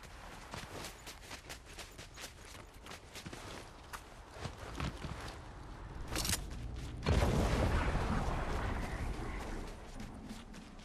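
Distant gunfire in Fortnite pops as scattered shots over quick in-game footsteps. A louder burst of fire and impacts near the end swells into a sustained rumble.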